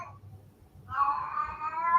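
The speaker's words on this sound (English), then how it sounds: "get your cat." A cat meows loudly and drawn out, close by, asking for treats, with low background murmur and no clear speech.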